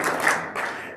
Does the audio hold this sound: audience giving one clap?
yes